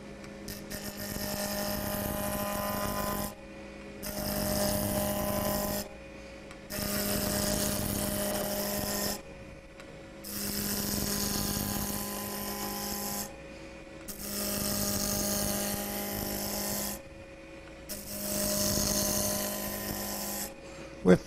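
A wood lathe spins a blank while a roughing gouge cuts it at a woodturning demonstration on making hummingbird houses. The loud grinding, whirring passes come in five or six bursts of a few seconds, each followed by a short pause.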